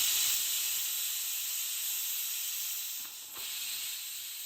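A steady, loud hiss of steam escaping under pressure from a pressure cooker lid while cooking carrot halwa, continuous throughout with a slight dip near the end.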